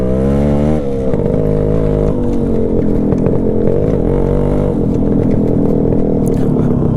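A Yamaha RXZ two-stroke motorcycle engine runs loud and close, a buzzy droning tone that rises and falls with throttle blips, held steady throughout.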